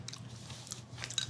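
Someone bites and chews a mouthful of beans close up, soft crunchy and squishy chewing sounds in a quick irregular rhythm, faint against a quiet room.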